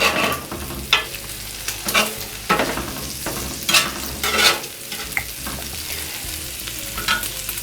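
Onions and bacon frying on a hot griddle for bacon-encrusted smash burgers, a continuous loud sizzle broken by intermittent spatula scrapes and taps, no voices.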